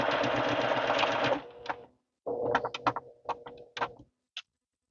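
A sewing machine stitches a long seam on a baby quilt: a steady buzzing run, a pause, then several short stop-start bursts of stitching, fairly close.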